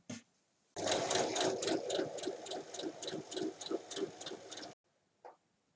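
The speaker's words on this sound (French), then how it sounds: "Il faut maintenant venir piquer sur chacune des lignes." Sewing machine stitching along the lines of a fabric bag, a close, loud run of rapid rhythmic needle clatter lasting about four seconds, then stopping, followed by a brief click.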